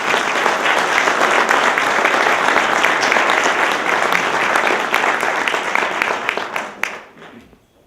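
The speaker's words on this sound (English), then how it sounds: "Let's give a round of applause to the Republican." Loud, dense audience applause at an awards ceremony for newspapers, a sustained wall of clapping that tapers off near the end.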